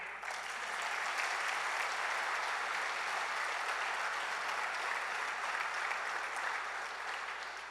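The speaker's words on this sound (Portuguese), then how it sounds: "Vamos aplaudir o Senhor?" A church congregation applauds during a Portuguese-language service, producing a steady, fairly soft wash of clapping that holds evenly for several seconds with no talking.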